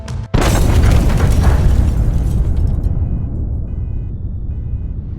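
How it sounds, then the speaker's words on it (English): An explosion sound effect: a sudden loud boom bursts in, followed by a long rumbling roar that slowly fades away. "maybe you have a scene where you want to tell the audience that something just blew up"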